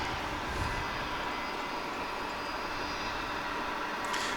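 UPS cargo airliner with Pratt & Whitney engines at DFW, a steady broad jet roar holding level throughout, moderately distant with no talk over it.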